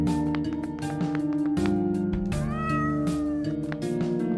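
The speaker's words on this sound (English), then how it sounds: "I'm glad the cats are okay." Cats meowing in the video game OneShot, repeated meows rising over a steady layered musical background, with no speech.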